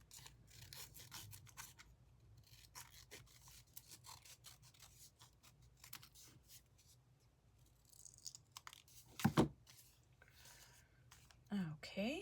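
Scissors snipping through paper while cutting out simple shapes, a close, quiet series of irregular crisp cuts and rustles with louder scrapes near the end, with a voice speaking at times.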